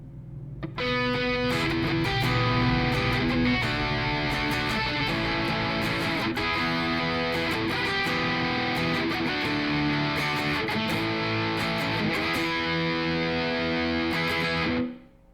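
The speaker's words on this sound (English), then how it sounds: "We're going to throw a little bit of distortion on and start in the bridge with that" A 2020 Hadean EG-491 IV Telecaster-style electric guitar on the bridge pickup plays through heavy distortion, chords ringing in a steady rhythmic pattern for about fifteen seconds, loud and alone before cutting off.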